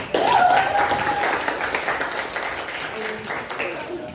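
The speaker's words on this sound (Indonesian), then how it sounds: "Tepuk tangan untuk Indah" Applause in a classroom-style teaching session, a moderate burst of clapping that starts abruptly and gradually thins out, with a voice speaking briefly over it.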